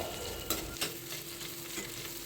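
Masala with mint leaves sautéing in a pan for masala pasta: a steady, close sizzle with a few sharp scrapes of stirring standing out.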